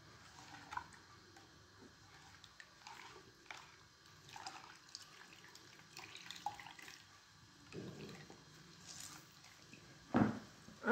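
Tap water running over a stained cloth being washed by hand in a sink, with intermittent splashing and trickling, fairly faint and close, no talking.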